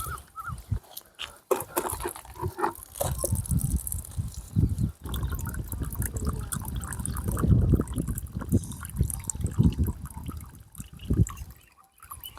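Water poured through a homemade sand water filter, a continuous close splashing and trickling stream with irregular drips and gurgles that fades near the end.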